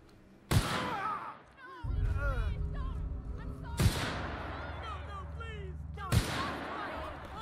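Three loud gunshots from The Outer Worlds video game, spaced a few seconds apart, ring out over a steady rumble and chirpy electronic sounds. Each blast decays quickly.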